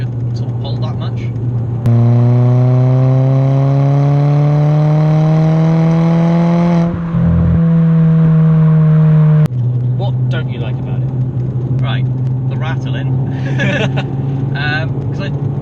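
A 100-horsepower Fiat Panda accelerates hard through its gears, the loud, close engine note climbing steadily in pitch, dropping briefly at each gear change, then rising again, with a short lull in between.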